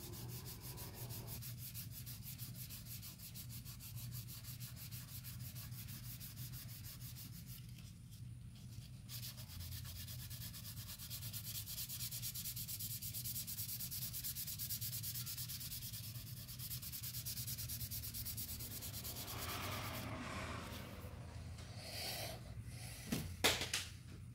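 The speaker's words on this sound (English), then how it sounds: "Let the sandpaper do the work." Sandpaper rubs over a plastic RC car hardbody in a steady, soft, continuous scratching with light pressure, a few sharper scuffs near the end.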